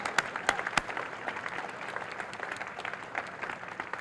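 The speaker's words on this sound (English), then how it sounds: "So how about another round of applause for our incredible singers?" A crowd at a ribbon-cutting ceremony applauds singers steadily, a dense wash of clapping with a few sharper claps near the start, fairly close and sustained throughout.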